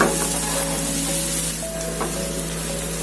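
Grated ginger, garlic and green chili fry in hot oil for an egg curry, giving a loud, steady hiss and crackle that runs unbroken through the whole short stretch with a faint tonal hum beneath.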